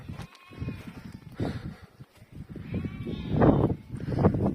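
Several sheep bleat at intervals, some overlapping, over soft outdoor ambience with low rustling from the grazing flock.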